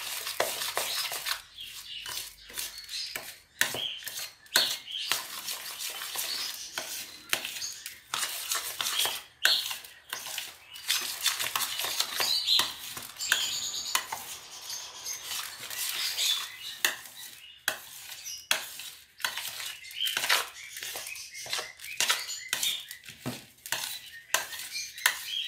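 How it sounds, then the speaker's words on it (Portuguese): A spoon scrapes and clatters through a mixed bird salad feed with crumbling extruded pellets in a basin, giving repeated close scratchy stirring strokes in an uneven rhythm, with faint bird squawks in the background. "Então agora eu misturo na bacia mesmo"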